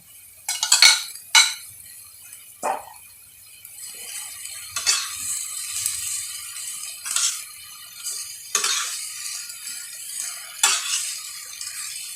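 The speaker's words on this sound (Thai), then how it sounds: "เทวุ้นเส้นเข้าไปนะคะแครอทด้วย" Glass noodles and carrot being stirred and tossed in a hot pan: quiet sizzling with a series of spaced scrapes and clinks of a utensil against the pan, close and otherwise calm.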